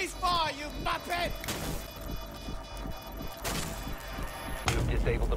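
A teammate's gunfire in Rainbow Six Siege rattles in rapid bursts of close, sharp shots amid game effects and tonal sweeps, with a loud crash near the end.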